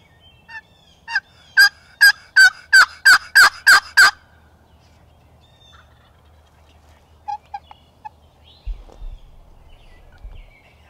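A wild turkey gobbler in Pennsylvania gobbles loudly and close, in a rapid burst of about eight calls. Faint scattered bird calls and low rustling follow.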